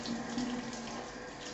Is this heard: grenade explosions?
no